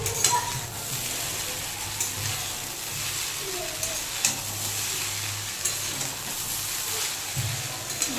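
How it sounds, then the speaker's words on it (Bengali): Chow mein being fried and stirred in a pan, a steady sizzle with scraping stir strokes throughout, fairly close and moderate in level, with faint low hum underneath. "আর দেখো এদিকে আমার চাউমিনটাও হয়ে গেছে রেডি, একটু ভাজলেই হবে।"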